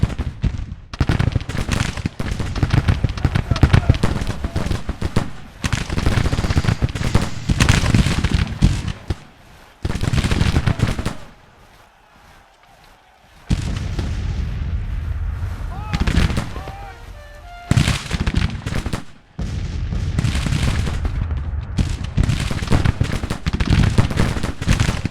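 Civil War gunfire and artillery crackle in dense, repeated volleys of sharp reports and booms, mostly continuous with a brief lull, while voices are heard among the firing.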